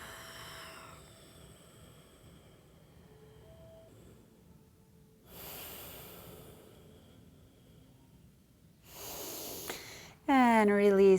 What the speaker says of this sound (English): Make sure you're breathing.